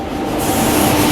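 The Konark Express roars past at close range, a loud, dense rush of wheel and wagon noise that swells slightly midway and continues unbroken for the short stretch, with no voices.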